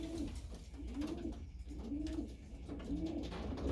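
Young pigeons coo in slow, repeated rising-and-falling phrases close by, a soft rhythmic burble over low background noise with no voices.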